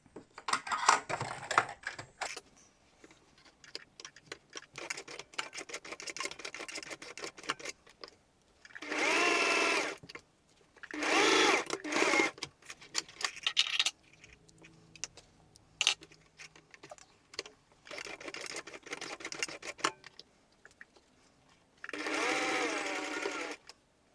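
A sewing machine stitches a fabric book cover in several bursts of fast, steady whirring, separated by quieter pauses with small clicks and handling noises, close to the listener.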